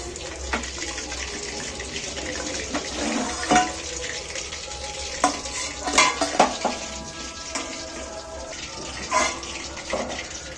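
Chicken pieces frying in a pan, with a low, subdued sizzle as the bubbling dies down, broken by scattered utensil clinks and scrapes against the pan, close by.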